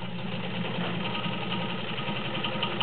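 Kenmore 1203 heavy-duty vintage sewing machine stitching a zigzag pattern, a steady, continuous motor hum with fast regular needle chatter, close and moderately loud, with no talk.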